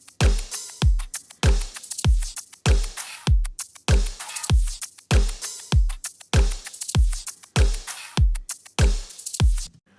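Punchy electronic drum loop with a deep kick on a steady beat, bright hi-hats and claps stacked on top, loud and continuous with no voices.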